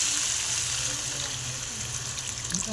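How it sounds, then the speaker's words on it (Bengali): A little water poured into a hot pan of boiled onion greens for a fish curry, giving a steady close hiss and gentle sizzle throughout, with no talking. "এবার এখানে আমি হালকা একটু জল দিয়ে দেবো।"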